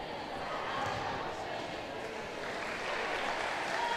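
A volleyball team claps together in a huddle during a timeout in a varsity match, a steady wash of clapping and crowd noise in a gym with a voice talking over it.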